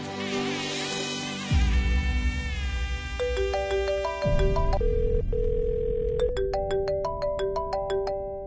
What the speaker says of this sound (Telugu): అమ్మా ఈశ్వరి, అల్లుడి గారికి ఒకసారి ఫోన్ చేయమ్మా.